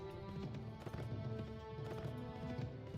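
Hooves of driven cattle in Mount & Blade Floris patter in a busy, uneven clip-clop rhythm at moderate volume, layered over steady background music.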